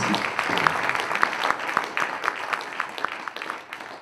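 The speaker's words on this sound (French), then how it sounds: "Je crois qu'on peut l'applaudir quand même" Applause from an audience at a panel talk on team management, a dense run of clapping with a few louder close claps, tapering off slightly toward the end.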